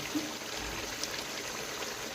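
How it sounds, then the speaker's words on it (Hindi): Water trickles and pours in a steady, close stream into a plate of chicken feet, an even liquid hiss with no pause and no voices. "मगर इसमें हम थोड़ा सा डालेंगे पानी आपको दिखाने के लिए"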